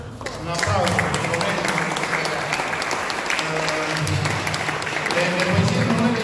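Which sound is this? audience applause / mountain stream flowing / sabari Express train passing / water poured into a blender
audience applause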